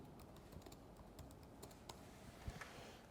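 Someone types a short entry on a computer keyboard: light, quick key taps in a loose, uneven run, close by but faint, over a quiet room hiss with no speech.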